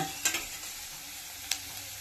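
Onions and tomatoes frying in a pan for lamb liver and lung gravy: a soft steady sizzle with two brief scraping stir strokes, close by and fairly quiet, no voices.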